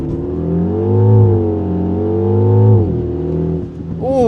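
A 2025 Mini Countryman John Cooper Works sits on launch control, its engine held at a loud droning high idle with a couple of rising and falling surges before the revs drop and then climb again.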